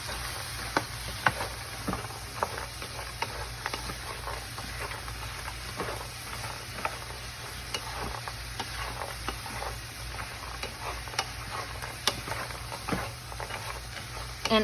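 Pecans sizzling in a pan as their sugar syrup boils down to caramel, a steady crackling fry with soft stirring scrapes throughout, close and moderately loud.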